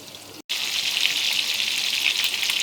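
Chicken pieces fry in hot oil with a steady, dense sizzle that cuts out for a split second near the start, then resumes at an even, close level with no talking.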